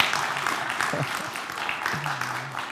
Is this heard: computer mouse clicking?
no